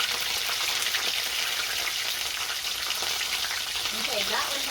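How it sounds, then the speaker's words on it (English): Apple egg rolls fry in hot oil with a loud, constant sizzle and crackling pops from juice leaking out, close up and without talk. "that one had some apple juice squirting out, so that's why it's popping so good"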